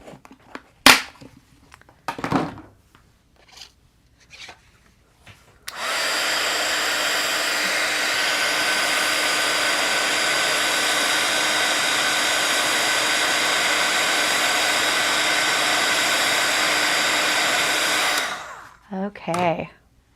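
A heat tool blows steadily for about twelve seconds, melting embossing powder on a card, a loud even whooshing hum that starts and stops abruptly, with scattered handling clicks and taps before and after.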